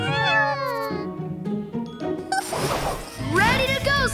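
Cartoon kittens in a PAW Patrol episode mew in high wavering cries, several overlapping, mixed with clattering and a crash amid busy background music.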